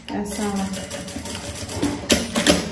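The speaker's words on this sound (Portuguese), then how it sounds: "Eu vou passar aqui uma costurinha só pra segurar" A sewing machine runs in short rattling bursts as it sews a quick stitch on a backpack strap, with someone talking over it throughout.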